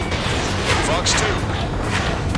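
A missile fires during an Ace Combat 7 aerial dogfight, a brief whooshing launch blast riding over constant jet roar and dense combat noise, with a radio voice calling out around it.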